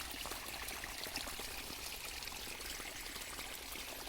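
Faint, steady trickle and gurgle of water flowing continuously through a sugarcane field, with no voices.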